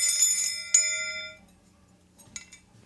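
A handbell used to call on a santo rings out clearly with sustained metallic overtones, struck twice in quick succession and fading, then a few faint clinks follow.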